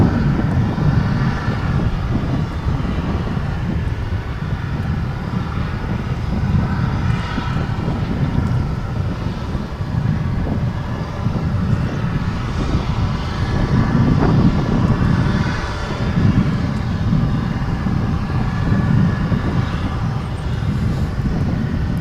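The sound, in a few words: airliner on runway 17 right at DFW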